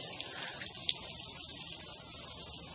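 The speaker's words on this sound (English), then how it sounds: "look at that water come out of the hose" Water gushes steadily from a garden hose outdoors, a continuous loud hiss and splash with no break.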